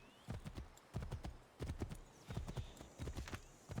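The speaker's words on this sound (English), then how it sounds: "That horse just came out of the water." Horse hooves clip-clop steadily in the video game Assassin's Creed 3, a close, rhythmic series of hoof strikes in bursts on a hard surface.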